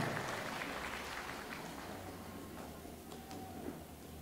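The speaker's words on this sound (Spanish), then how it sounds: "que se escuchen esos aplausos para el presidente municipal de Santiago Zacatepec y su banda" Audience applause for a municipal president of Santiago Zacatepec and his band at a band farewell program in Santa María Tepantlali, a dense, steady crackle of clapping from a crowd that carries on at even strength throughout.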